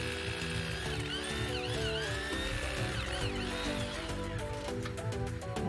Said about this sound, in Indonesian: Menggunakan mata bor beton ukuran 10 mm.